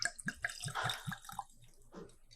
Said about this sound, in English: All right, maybe the pour will be better.